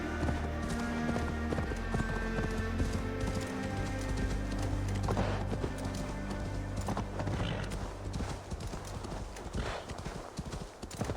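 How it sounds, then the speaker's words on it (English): In the AC Valhalla video game a horse trots through snow with rapid, steady hoofbeats and an occasional whinny. The hooves sound close and keep going the whole time, set against game music, with speech breaking in now and then. "Alright, horsey. Time for a trip through the snow"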